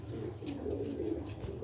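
Sialkoti pigeons coo softly and steadily nearby, a low, faint, murmuring pulse that continues without a break.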